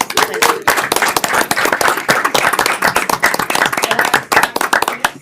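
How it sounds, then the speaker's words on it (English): Applause at a meeting: a room of people clapping steadily for about five seconds, dense overlapping hand claps at close range with a brief lull near the start. "Let's much. give a round of applause"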